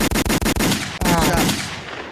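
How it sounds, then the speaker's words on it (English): Rapid bursts of gunfire crack loudly and close, a quick machine-gun-like volley followed by a single heavier shot that rings out and fades. "We got the gunshots going on, Javi."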